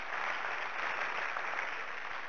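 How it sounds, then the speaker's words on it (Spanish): Steady audience applause, dense clapping from a crowd, even and continuous throughout with no voices on top. "Un aplauso para nuestro presidente Dick DeVos."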